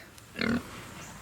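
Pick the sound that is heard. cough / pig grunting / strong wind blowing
pig grunting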